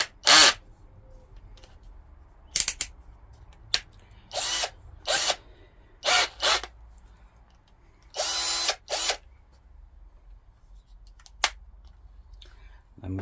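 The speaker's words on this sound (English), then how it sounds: "we'll just drill through until we hit the stop on there" A power drill drilling through wood with a clamped jig whines in repeated short bursts, several separate runs of a second or so each, with quiet pauses between them.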